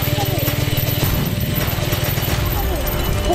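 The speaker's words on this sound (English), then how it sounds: "Here's a chainsaw." A chainsaw in the run-and-gun video game Huntdown buzzes loudly with a steady, rapid pulsing engine drone that continues throughout, with game noise layered over it.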